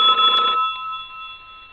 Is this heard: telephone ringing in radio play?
yes